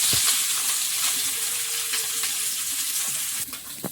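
Parshe fish frying in hot oil: a steady, close, bright sizzle with faint stirring clicks, with no talking.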